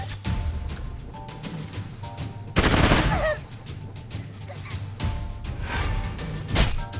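Gunfire rattles off in the Troubleshooter game as a target named Anne is shot, a sharp loud burst about a third of the way in over steady game ambience, followed by lighter scattered reports.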